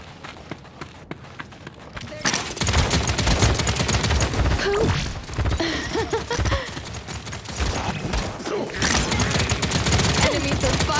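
Enemy gunfire in the shooter Paladins, a dense busy barrage of rapid shots and impacts that erupts after a sparser opening of isolated clicks and carries on loudly, with a voice speaking amid it.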